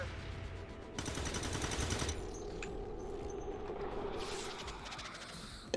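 Gunfire rattles in an XCOM 2 firefight, a fast burst of about a second followed later by quieter, scattered shots against low background rumble.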